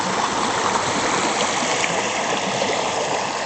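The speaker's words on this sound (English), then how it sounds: "Irrigation's on right now." Steady rushing irrigation water flowing continuously at close range, a dense broadband gush with no voices, like a channel running full.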